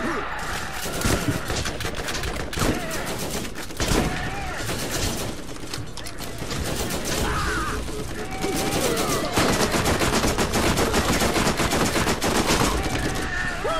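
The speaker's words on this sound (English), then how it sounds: "No, quit shooting me." Gunfire in the video game Borderlands, a sustained barrage of rapid automatic shots with heavier single cracks, loud and near for most of the stretch, while players talk over it.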